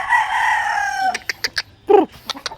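A fighting rooster bred for cockfighting lets out a loud, close crow, followed by a quick series of clucks and sharp short calls from nearby fowl.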